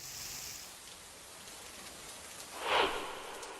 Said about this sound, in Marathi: सातारा जिल्ह्यात पडत असलेल्या पावसामुळे आणि विशेषतः पश्चिम घाट परिसरात पडत असलेल्या मुसळधार पावसामुळे